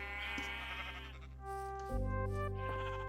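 Sheep in the Minecraft video game bleat in a few drawn-out, wavering calls, one after another, loud and clear with no talk over them.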